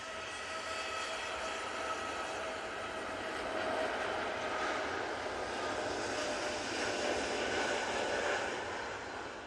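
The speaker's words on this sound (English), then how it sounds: "That 2 Dreamliner is off to Malaga." A Boeing 787 Dreamliner jet departs for Malaga, its engines a steady broadband roar that holds loud and even throughout with no voices.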